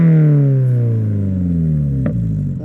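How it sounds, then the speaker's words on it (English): A 2022 Subaru BRZ fitted with a Tomei titanium catback exhaust revs up and then lets the revs fall in one long, loud sweep, with a sharp pop near the end and no talking. "All right, Alex, give us some revs"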